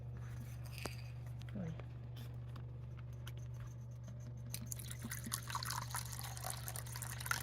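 Water poured into a tarantula's water bowl: a faint, soft trickle and patter that grows brighter and fuller in the last few seconds, over a low steady hum.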